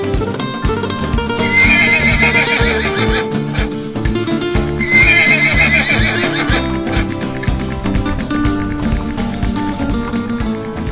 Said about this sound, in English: And there's horses everywhere.